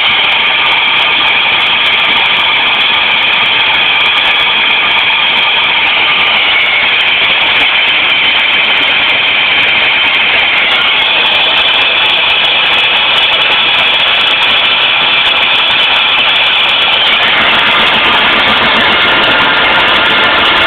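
A car engine idles on four cylinders, a loud, steady, close mechanical drone with a slight shift in pitch midway as the idle rises, alone without talking.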